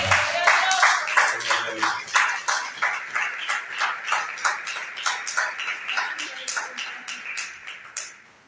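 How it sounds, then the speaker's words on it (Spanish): Congregation in a Spanish-speaking church claps in unison in a steady, regular rhythm of strong, close beats that keeps going for several seconds, a voice briefly heard at the start, then fades out at the end. "Vamos a darle un aplauso al Señor."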